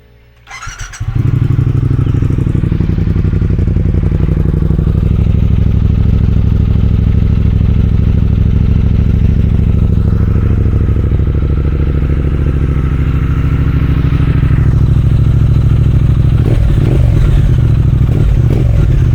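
A Triumph Speed Twin motorcycle with its exhaust baffle removed starts up and settles into a loud, rough, throaty idle that rumbles steadily close by, with a few revs near the end.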